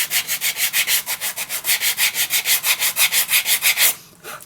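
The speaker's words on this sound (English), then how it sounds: "I am going to use an old nail file." An old nail file rasps back and forth along paper edges in quick, steady strokes, about five per second and close up, then stops abruptly near the end.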